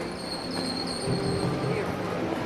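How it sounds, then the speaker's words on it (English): A train at a station platform, a steady low rumble with faint high squealing tones and a hum, continuous and fairly close, with no voices clearly standing out. "Train on platform 5 is now ready to depart."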